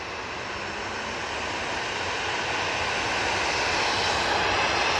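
A TUI jet airliner taxiing at Manchester Airport gives off a steady, broad engine roar that swells slightly over a few seconds, with no voices over it.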